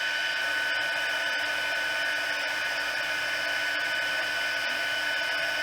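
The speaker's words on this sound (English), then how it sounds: "Turn your sound down if you don't want to hear the heat gun." Heat gun blowing hot air during a card-stamping craft session, a loud, steady close whirring roar of fan and airflow that runs unbroken throughout.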